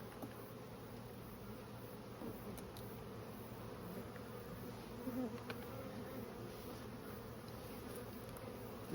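A late-season swarm of bees settled on a bird's nest, giving a steady, continuous buzzing drone that holds at an even level throughout with no talk.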